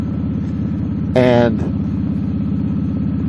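A motorcycle being ridden near a Nabisco factory, its engine holding a steady, close mid-pitched drone throughout, broken briefly by a short higher-pitched sound.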